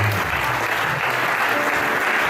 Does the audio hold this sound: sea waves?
no